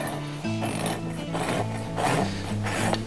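A farrier's rasp filing across a horse's hoof in circular strokes, giving a continuous close rasping scrape over a steady tonal hum with no talking.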